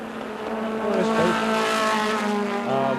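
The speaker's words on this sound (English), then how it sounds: "Coming up the hill, Doc Bundy is the leader in D production action in the Al Holbert Racing Porsche 924." A Porsche 924 D Production race car climbs a hill during the 1980 SCCA national championship, a loud engine note rising close by with brief tire squeal, lasting a few seconds without talk.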